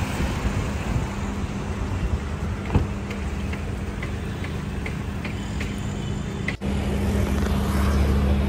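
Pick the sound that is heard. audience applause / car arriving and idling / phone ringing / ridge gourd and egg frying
car arriving and idling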